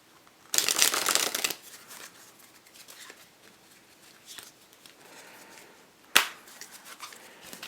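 An illusionist-brand playing card deck is handled and riffle-shuffled close up: a loud ruffling burst, quieter riffling and soft taps, then one sharp snap near the end.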